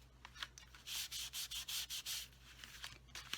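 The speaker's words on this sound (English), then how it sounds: "I'm going to take my embossing buddy and I'm going to treat the bottom of my cards" Embossing buddy rubbed back and forth over card stock for Christmas cards: a run of soft, close, sandpaper-like swishes, steady and rhythmic in the middle with looser strokes at either end, no speech.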